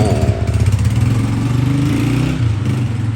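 A motorcycle engine runs close and loud with a steady, throbbing low drone, shifting pitch slightly partway through as the bike moves off.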